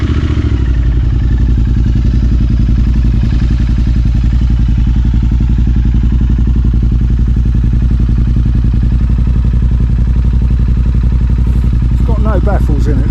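Motorcycle engine idling with no exhaust baffles, a loud, steady throbbing rumble close by, with a brief clatter near the end.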